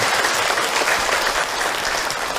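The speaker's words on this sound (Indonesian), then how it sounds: "Insya tepuk tangan atuh buat kita semua." A congregation at an Islamic religious talk claps together in a brief, dense, fairly loud burst lasting a couple of seconds.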